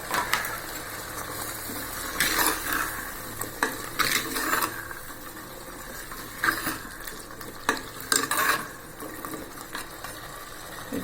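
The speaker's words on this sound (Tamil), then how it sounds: "பரங்கிக்காய், முருங்கைக்காய் இதிலே போட்டு நம்ம வதக்கிடலாங்க." Pumpkin and drumstick pieces frying in a pan, a low sizzle broken by irregular stirring scrapes and utensil knocks against the metal.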